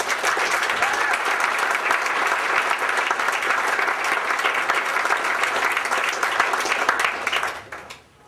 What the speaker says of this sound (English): All this applause is for you folks on stage.